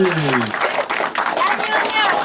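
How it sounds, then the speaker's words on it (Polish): Applause at the opening of a village hall in Łęguty: a crowd claps steadily and loudly after a brief burst of a voice at the start, with some cheering voices mixed in. "Gorące oklaski!"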